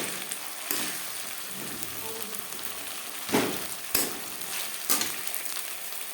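Boiled tomatoes fry in a pan for a potato and cauliflower curry. A constant soft sizzle runs throughout, broken by a few sharp scrapes and knocks as a spatula breaks them up.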